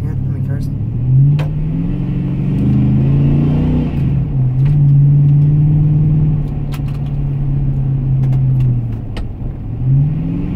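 A car engine revs up and drops through a downshift, rumbling loudly and close with rising and falling pitch, while a person talks over it.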